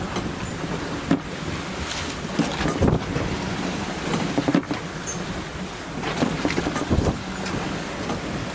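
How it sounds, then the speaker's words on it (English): Strong wind of about 22 to 23 knots roaring over a sailboat at sea with a torn mainsail, a loud constant rush with microphone buffeting and gusty thumps, water and hull noise underneath. "We've got around 22, 23 knots of wind."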